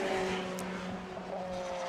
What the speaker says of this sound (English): I was distracted by Bradley John coming past the commentary box just now down the start-finish straight